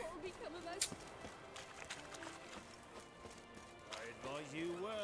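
A horse gallops in the video game Witcher 3, its quick, rhythmic hoofbeats playing faintly among other game sounds while someone talks over them.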